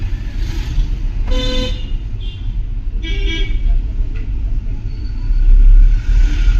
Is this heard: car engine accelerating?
yes